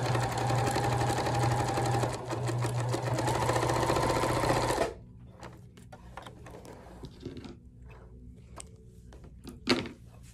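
Sewing machine stitching fabric scraps for a dish drying mat, running loud and steady for about five seconds, then stopping, followed by quiet handling clicks and taps of fabric.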